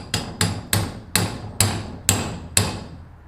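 Seven sharp, ringing hammer taps drive a trailer wheel bearing seal into place, evenly spaced about half a second apart, each close and loud with a short metallic decay.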